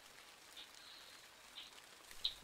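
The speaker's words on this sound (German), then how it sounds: "Es regnet halt immer noch." Rain in the video game MineClone2, a quiet, even hiss of falling drops with a few soft patters, nothing else over it.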